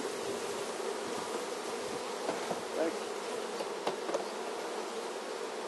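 Honeybees buzzing around a brood frame being moved into a small nucleus hive, a continuous droning hum of many bees close by, with occasional faint clicks of frame handling.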